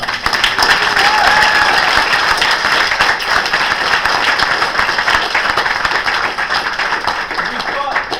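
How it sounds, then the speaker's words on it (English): A room of spectators at an improv comedy show gives a sustained round of applause, loud and close, with sharp individual claps and a few voices mixed into the steady clatter. "round of applause"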